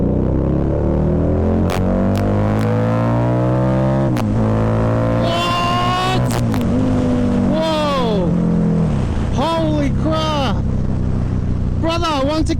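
A stock 2015 Harley-Davidson Night Rod Special motorcycle revs hard and accelerates on a ride, its engine note repeatedly climbing high and then dropping at each gear shift, loud and continuous under steady rushing wind.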